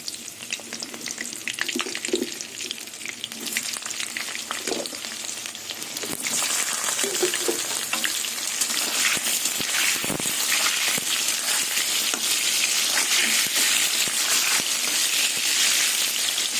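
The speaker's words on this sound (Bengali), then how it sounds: "এবার পটলগুলো লাল লাল করে ভেজে নেবো তেলে" Pieces of pointed gourd (potol) frying in hot salted oil make a steady, loud sizzle that swells and thickens partway through and then holds as a dense, continuous crackle.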